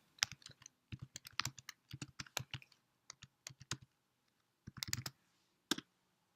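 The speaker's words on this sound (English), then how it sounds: "And type in Social Explorer." Quick bursts of computer keyboard typing, close and crisp, as a search term is entered on a library website; irregular clusters of clicking keys separated by short pauses, with no speech.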